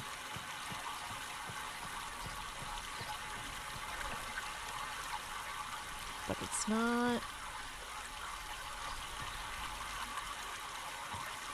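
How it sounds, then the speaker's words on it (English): Steady running water in the video game Myst, a continuous wash of flowing, splashing water throughout, with a brief spoken remark over it midway. "Oh, you can hear the water going."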